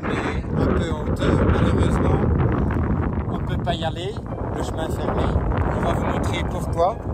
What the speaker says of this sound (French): Il y a beaucoup de vent là maintenant.